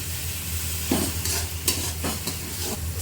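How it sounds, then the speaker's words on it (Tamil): Ground onion paste fries in a pan as the base for a coconut milk egg and drumstick gravy, giving a steady close sizzle broken by a few scraping stirs and soft clinks of a spoon. "வெங்காயம் வதக்கிட்ட பிறகு கொஞ்சம் அரைச்சி வச்ச வெங்காயம் பேஸ்ட்டை கொஞ்சம் போடணும்"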